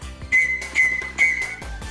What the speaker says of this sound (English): The sound of a whistle carries farther than the sound of a human voice.